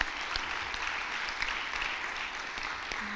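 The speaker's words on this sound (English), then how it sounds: "Let's give Dr. Bryant another round of applause" Applause for a panelist at a professional women's networking event, a dense steady wash of clapping held at moderate level for the whole stretch, with no talk over it.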